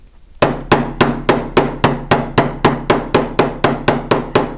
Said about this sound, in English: And if you go to a bigger hammer,